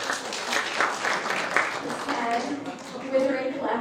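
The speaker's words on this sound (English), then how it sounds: "So do we clap if you're single?" Audience applause and scattered clapping at a live comedy show, a steady crowd wash lasting throughout at moderate level, with some voices mixed in.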